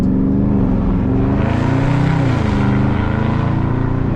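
A Dodge Charger Scat Pack engine accelerating while driving, a loud steady low roar that rises and falls slightly in pitch, heard from inside the car without talk.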